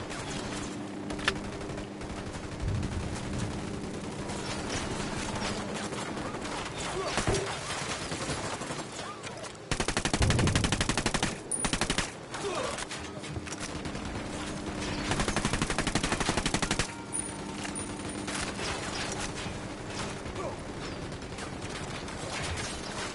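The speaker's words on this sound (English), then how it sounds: "A bunch of dudes shooting off guns tends to happen." Sustained machine gun fire in a video game firefight, dense rapid bursts that swell loud and fade across the scene, with mechanical clanks and occasional voices in between.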